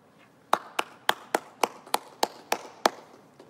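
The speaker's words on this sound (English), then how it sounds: "let's please give them a round of applause" Sparse clapping for a graduating middle school class: about nine distinct, evenly spaced claps ring out one by one against a quiet background, sounding like a single pair of hands rather than a crowd.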